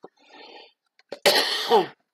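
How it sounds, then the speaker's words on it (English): A single close cough follows a few small breathy sounds and a throat noise, alone in a quiet room. "Excuse me for the cough."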